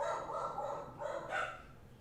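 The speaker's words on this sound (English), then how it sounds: "Also, sorry about the dogs" Dogs bark in the background, a few distant, muffled barks scattered across two seconds with no talk over them.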